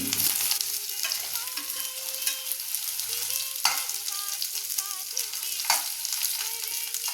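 Stuffed okra (bhindi) goes into hot oil with curry leaves in a heated pan, producing a loud, close crackling sizzle with sharp pops and occasional scraping, continuous and without talk.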